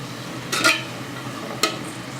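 Carrots and green pepper frying in a pan while being stirred, a soft steady sizzle broken by a few brief scrapes and clinks of the utensil against the pan, close, with no talking.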